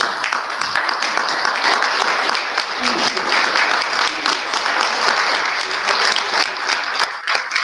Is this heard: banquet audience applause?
yes